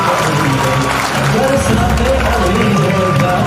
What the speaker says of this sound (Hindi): वंस अगेन एक बार जोरों ताली हो जाए बलविंदर सिंह जी और मनजीत कौर